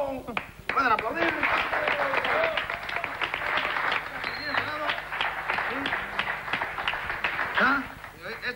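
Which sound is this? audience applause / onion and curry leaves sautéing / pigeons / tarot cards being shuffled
audience applause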